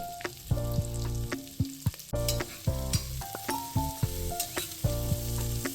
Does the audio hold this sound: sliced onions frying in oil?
yes